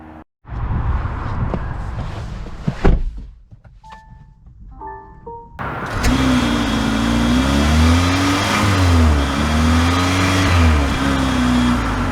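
A 2023 Kia Niro Hybrid pulls away, its engine note rising and falling in a steady mid-pitched drone after a brief quiet pause with a few small clicks and chimes.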